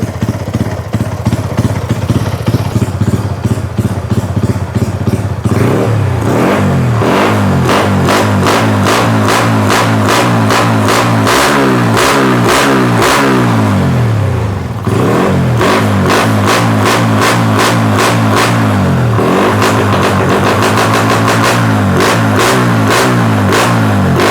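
A Honda Wave 125i motorcycle engine idles loudly and revs up repeatedly, pitch rising and falling in steady waves, close by with no talking.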